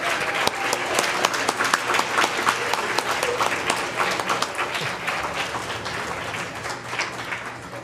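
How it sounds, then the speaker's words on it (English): Room of people applauding educators at a children's book event, loud crisp clapping with distinct hand strikes that gradually thins and fades. "let's give them a big round of applause"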